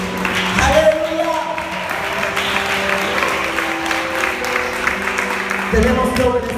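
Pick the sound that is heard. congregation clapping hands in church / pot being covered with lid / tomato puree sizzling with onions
congregation clapping hands in church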